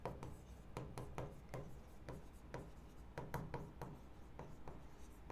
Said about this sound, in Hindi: तो मैं लिखता हूं ऑफिस